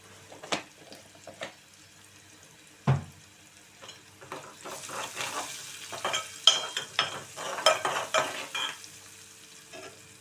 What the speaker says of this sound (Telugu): కొంచెం వేగాలండి ఉల్లిపాయలు అయితే.